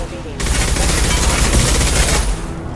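Weapons fire in the Mass Effect 2 video game: a sudden, loud, dense burst of rapid gunfire that keeps going for about two seconds and then cuts off.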